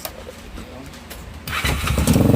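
A Daytona 212 motorcycle engine fitted with a custom 1 3/8 loop exhaust cranks and fires, turning from a low rumble into a loud, steady idle by the end.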